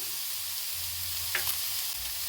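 Vegetables and slit green chillies cooking gently in a pan over a low gas flame, giving a steady soft sizzle with a brief scrape of stirring partway through.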